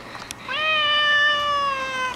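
A pet cat named Frisky gives one long, drawn-out meow, clear and close, with a slightly falling tone.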